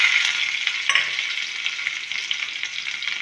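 A steady, bright sizzle of garlic, green chillies, asafoetida and cumin frying in hot oil, close by, with a brief stir or clatter near the start.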